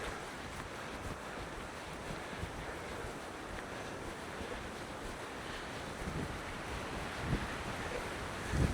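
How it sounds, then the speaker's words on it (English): Strong wind roars across an open riverside hiking trail toward Brooks Falls in Katmai National Park, Alaska, a continuous loud rushing buffeting the microphone with occasional stronger gusts and no talking. "It's really windy now,"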